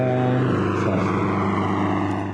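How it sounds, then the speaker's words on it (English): Steady, loud drone of a helicopter flying at an airshow, a rotor-and-engine hum with a pulsing low throb that holds constant and close, with no voices. "That's Brendan O'Brien with Otto the helicopter."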